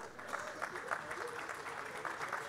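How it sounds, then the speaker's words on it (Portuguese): A round of applause at an engineering conference panel: many hands clapping in a steady, even patter, heard fairly faint and distant throughout. "a quem eu peço uma salva de palmas"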